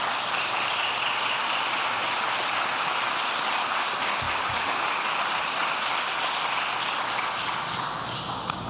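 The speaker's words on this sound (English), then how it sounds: "Let's give our panelists another round of applause" An audience at a homeownership anniversary event gives a round of applause, a steady dense clapping that fills the room evenly and continues without break from start to finish, with no speech over it.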